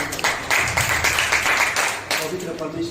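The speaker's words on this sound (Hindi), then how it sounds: "एक जोरदार ताली।" A congregation claps at a Wednesday church service of Hindi worship songs, a dense burst of hand claps running for a few seconds over voices and room noise.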